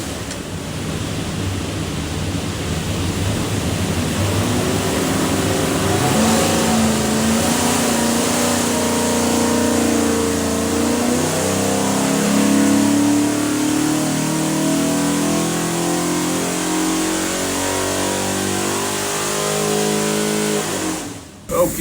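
A 347 stroker V8 bound for a '71 Ford F100 revs through a dyno pull, its loud, steady roar building and climbing in pitch for about twenty seconds before cutting off abruptly at the end.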